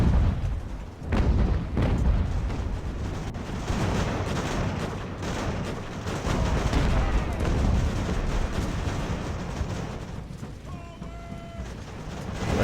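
Artillery fire rumbles in the naval battle game Ultimate Admiral: Age of Sail, with repeated booms over a dense, continuous roar of battle noise, loud and near throughout, with a voice speaking over it.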